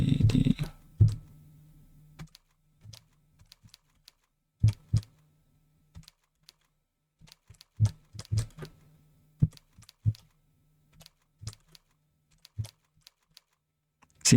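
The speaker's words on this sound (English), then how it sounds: "I have to type this slow in order to not make mistakes" Slow, deliberate typing on a computer keyboard, isolated key clicks scattered across long quiet gaps with an occasional quick cluster of strokes, close and fairly soft, without speech.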